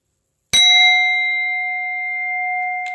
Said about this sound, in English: Had to ring the singing bowl on them.